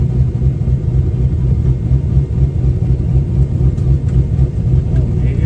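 Car engine fitted with an aggressive NKP cam, a loud, close, continuous low rumble with a choppy, uneven pulse while driving, and no talking.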